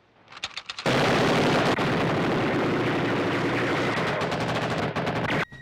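Gatling gun opening up after a few short clicks of cranking, then a sustained, very loud roar of rapid fire that runs unbroken for several seconds before stopping abruptly.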